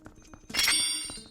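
Bell struck in the Zelda: Ocarina of Time video game, giving a single bright metallic clang that rings out and slowly decays, with faint clicks before it.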